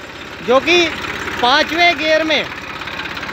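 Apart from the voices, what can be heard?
Massey Ferguson 241 tractor engine running on PTO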